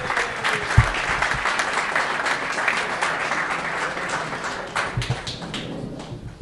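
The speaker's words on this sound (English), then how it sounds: "once again a big round of applause" Applause from an audience at a launch ceremony in New York City, steady clapping of moderate loudness that fades slightly toward the end.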